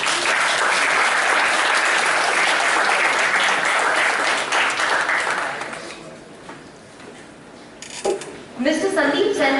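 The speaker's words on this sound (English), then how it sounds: "I would like you all to welcome Sir on stage with a warm round of applause." A warm round of applause fills a hall as a speaker is welcomed on stage at an industry talk, thinning out toward the middle before a few louder bursts of clapping return near the end.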